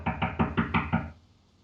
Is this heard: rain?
no